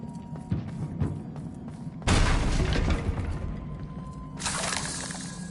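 Confringo blasting spell in Hogwarts Legacy: a sudden loud crashing burst with shattering debris, a second blast following a couple of seconds later, over faint background game sounds and no talk.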